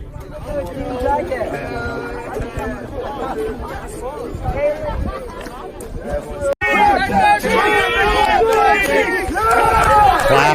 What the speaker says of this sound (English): they are chanting "clap dem cheeks."